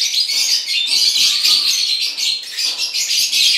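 Many African lovebirds kept in a cage for sale chirp continuously, a dense, loud, high-pitched chorus of overlapping tweets and squeaks heard close up without speech.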